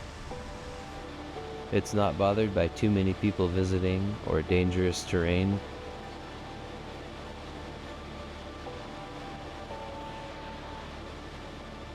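Abiqua Falls, an Oregon waterfall, gives a steady, even roar of falling water throughout, with someone talking over it for a few seconds early on before the rush continues alone.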